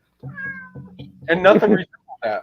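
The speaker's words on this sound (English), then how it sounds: "Is that a cat?" A pet cat meows several times in short, plaintive cries, close by, followed by a person speaking over and after the calls.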